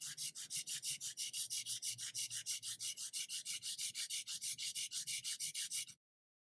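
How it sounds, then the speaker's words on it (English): A charcoal drawing stick is rubbed flat against a sanding block for sharpening, giving a close, even series of quick rhythmic scrapes, about five strokes a second, that end abruptly. "Hold the stick really flat to the sanding block or the sharpener, the sharpening block, and I'm turning it as I go."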